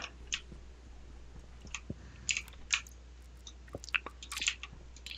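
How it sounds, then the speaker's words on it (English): Ice being chewed produces close, irregular crunches and crisp cracks over several seconds, with no talking. "Crunchy, the ice crunching"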